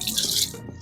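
Water gushes and splashes into freshly reconnected pump piping, a steady close rush that eases toward the end.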